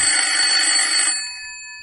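Telephone ringing sound effect on a radio show: a bright electronic ring sounding loud for about a second, then cut off and left to decay with a fading tonal tail, no voices over it.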